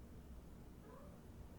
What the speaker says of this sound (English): As soon as I said Yoohoo, we all hear Jake's cat go